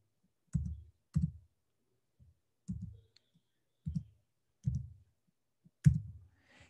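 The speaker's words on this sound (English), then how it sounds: "I click on Join a Game and then I type in the access code" Several separate clicks on a computer keyboard, sparse and irregular, as an access code is typed in, close and isolated against silence with no speech.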